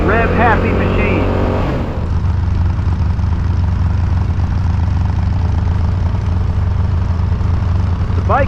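After a moment of talking, a Yamaha MT-07 cross-plane twin-cylinder motorcycle engine (2024) drones loudly and steadily up close, a deep continuous throb filling the rest.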